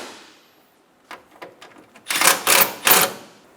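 Bolts are snugged down on a 2012-2016 Subaru Impreza radiator: a few faint clicks, then three loud, close ratcheting bursts in quick succession, with no speech.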